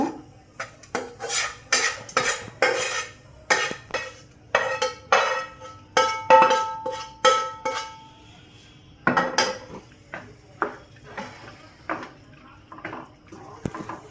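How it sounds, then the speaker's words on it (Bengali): Vegetables being stirred into white sauce in a metal pan for chicken pasta, heard as a steady run of scraping, clinking spoon-on-pan strokes, fairly close and loud, with a short pause midway before the stirring resumes. "কয়েক সেকেন্ডের মতো এভাবে সবজিটা আমি নেড়ে তারপরে পাস্তাটা দিয়ে দিব"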